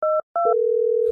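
A telephone line makes two short dual-tone beeps and then a steady, loud dial tone that holds for about half a second before a brief rustle cuts in.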